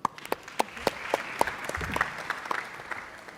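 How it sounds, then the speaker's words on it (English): A conference audience applauds with sharp, scattered claps that build into steady clapping, fairly close and without talk. "So please give her a warm round of applause."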